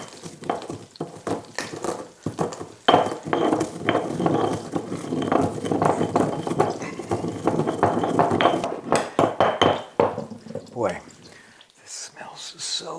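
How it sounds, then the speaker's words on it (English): Whole-leaf Mexican oregano and spices ground by hand for a pasilla chili sauce, giving a steady scraping, crunching rasp with irregular bursts that runs for several seconds, close and fairly loud, then trails off into scattered taps. "Teaspoon and a half or so of this this beautiful whole leaf Mexican oregano, and grind all of that up."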